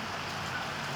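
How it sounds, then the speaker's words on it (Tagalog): Steady rain hisses outdoors during a mulberry harvest, an even, close wash of falling drops with no voices. "naririnig nyo ngayon guys, umuulan ngayon"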